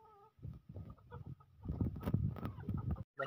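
Rhode Island Red chickens cluck in soft, low, overlapping calls at close range, with a few higher chirps mixed in, in a quiet farm setting.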